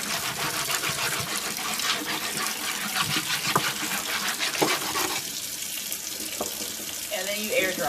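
Tap water runs steadily and loudly over a Cricut cutting mat in a sink, a continuous close splashing rush with slight changes in tone as the mat shifts.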